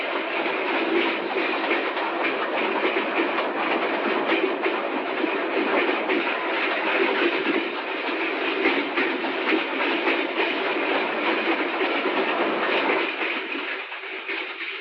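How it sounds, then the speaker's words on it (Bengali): A mail train rumbles past with a steady, loud, continuous roar and rhythmic wheel clatter, holding constant for the whole stretch before easing slightly at the end, with no voices. "Mail train."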